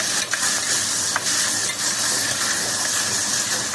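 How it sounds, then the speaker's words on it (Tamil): Cashews fry in butter in a pan for paneer butter masala, giving a dense, steady, close hiss of sizzling with a few faint clicks and no speech over it. "முந்திரி பருப்பு ஒரு கிண்ணமும் அதையும் போட்டாங்க போட்டு அது நல்லா ஃப்ரை பண்ண வேண்டியதுமா"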